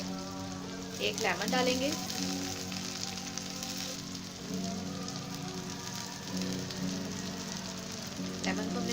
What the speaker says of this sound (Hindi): टमाटर और सब्ज़ मिर्चें डालने के बाद हम इसे सिर्फ 1 मिनट ही फ्राई करेंगे